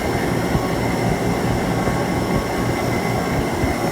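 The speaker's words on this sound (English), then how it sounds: "The noise you hear rattling is that old motor." Loud, continuous mechanical whir with a rattling undertone from an old, worn refrigeration condenser fan motor, steady throughout with no pauses.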